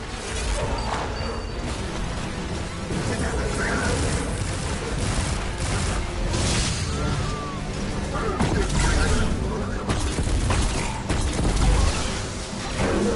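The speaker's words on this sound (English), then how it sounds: "I'm firing Vigilance Wing for the first time" Vigilance Wing pulse rifle fired in Destiny 2, loud dense bursts of gunfire with booming impacts and whooshing effects running steadily throughout, no speech over it.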